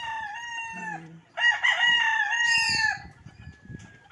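Chickens of mixed breeding stock, red, white and speckled birds, at feeding time on a farm, with a rooster crowing loudly and long near the middle amid clucking and calls, a faint voice speaking briefly.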